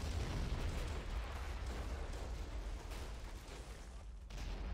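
Artillery fire exploding in the WWI video game Battle of Empires 1914-1918, a steady wash of heavy booms and rumbling bursts that blend together, loud and continuous with no talk.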